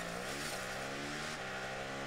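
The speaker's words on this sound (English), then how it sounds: "We keep getting these sissy engine sounds" A car engine sound item from the video game Rocket League, a steady, quiet synthetic engine hum with slight pitch shifts as if revving, continuous and alone.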